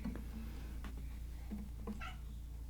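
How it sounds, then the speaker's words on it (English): A house cat meows indoors, a few short tonal calls spread across a couple of seconds over a steady low hum. "Cat, where are you at?"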